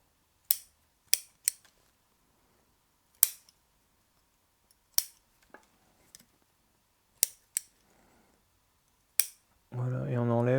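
Pruning scissors snip upper branches on a young cypress shohin bonsai: about nine crisp, close clicks spaced irregularly, then a short burst of voice at the end.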